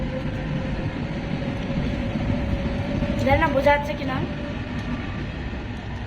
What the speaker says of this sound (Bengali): আর এদিকে দেখো আমাদের ট্রেন যাচ্ছে।